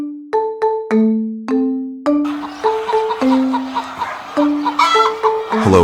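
Laying hens on a modern American egg farm cluck in a quick series of loud, close calls, several birds overlapping as the flock grows busier.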